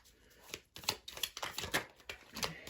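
Soft, quiet riffling and flicking of playing cards being shuffled repeatedly in short bursts, close and crisp.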